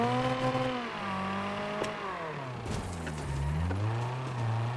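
A badly damaged car engine in the racing game Wreckfest 2 drones with a wavering, strained hum whose pitch sags and rises, steady and continuous with no voices.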